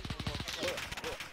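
A fast burst of automatic gunfire sprays toward the player in a shooter video game with an MP40 build, rapid close cracks that fade into a short rattle.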